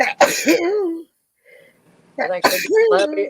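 A single sharp sneeze-like burst breaks up people talking, with brief quiet before speech resumes.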